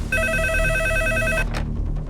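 A telephone rings at a police station, a loud, close electronic trill of repeated tones that holds steady for over a second and then cuts off, followed by a brief noise and a quiet background.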